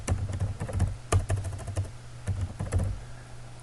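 Computer keyboard keys tapped in quick, uneven bursts while typing into a notepad file, close and clear, with brief pauses between runs of keystrokes and no talking.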